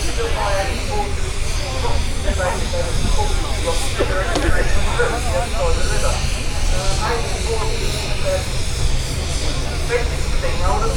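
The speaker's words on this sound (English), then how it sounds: "That's two steam engines in one there." Steam traction engines working in a show arena at a transport festival give a continuous loud hiss and chuffing rumble, with someone talking over the din throughout.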